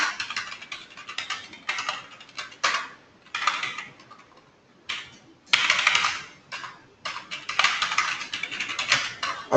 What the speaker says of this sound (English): I'm just typing some random information.